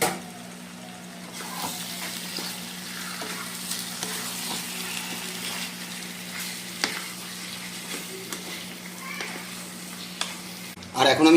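Marinated chicken pieces for chicken kala bhuna fry in a hot pan with a steady, close sizzle and crackle, broken by a few stirring clatters, with no voices.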